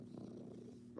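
A pet cat purring faintly and close by, a low, steady rumble that continues through the whole brief moment.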